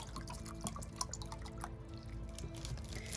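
Water is poured into a flower vase, heard as a quiet run of drips and small splashes over soft background noise.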